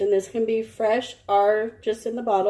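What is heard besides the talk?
No distinct noise like a dog, phone or traffic.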